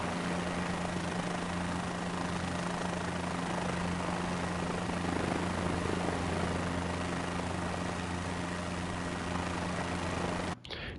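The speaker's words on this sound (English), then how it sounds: "if the helicopter noise gets annoying," Helicopter in Microsoft Flight Simulator 2024 drones with a loud, constant rotor and engine roar and a steady low hum, unbroken until a brief dip at the very end.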